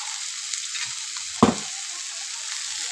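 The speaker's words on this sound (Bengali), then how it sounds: "আদা কাঁচা লঙ্কাটা দিয়ে 2 মিনিট কষিয়ে নেওয়ার পর এবার আমি যে জিরের গুঁড়ো, লঙ্কার গুঁড়ো, হলুদটা রেখেছিলাম সেটা দিয়ে দেবো।" Ginger, green chili and spices sizzle steadily in a hot pan, a continuous frying hiss with a brief louder clatter of stirring near the middle, no voices.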